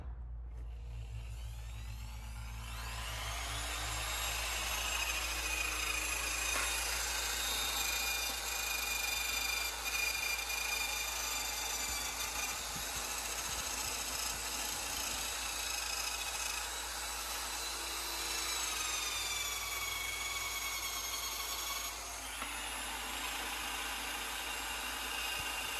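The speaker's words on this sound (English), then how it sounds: "we've got our electric drill, we've got our, I think, eBay or Amazon wire wheels" An electric drill spinning a cheap wire wheel scrubs rust off a Toyota WiLL Vi's wheels, a steady high whirring grind that runs for about twenty seconds with slight dips and a brief pause near the end.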